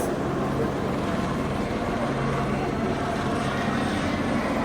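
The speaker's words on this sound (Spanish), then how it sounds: "El helicóptero rodeando todo el tiempo haciendo bulla" A steady, heavy rotor-and-engine rumble from a helicopter circling overhead, constant and fairly loud throughout with no voices.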